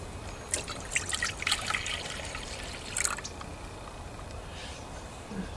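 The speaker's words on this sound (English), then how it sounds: "first you pour 1 cup into the pot" Water trickles and splashes into a pot in short irregular bursts, fairly faint, with no talking.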